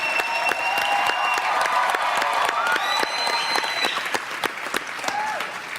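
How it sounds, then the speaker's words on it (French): A TV studio audience applauds two evicted contestants during a live reality-show gala, a thick, continuous wash of clapping with cheering and music-like tones running through it, holding steady then easing slightly. "Oui, on peut les applaudir certainement."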